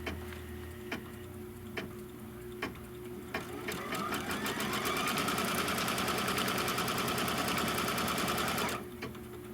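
A sewing machine stitches a fabric seam for a Kimberbell quilt block. A few soft ticks come first, then the needle runs steadily and close for about five seconds before stopping.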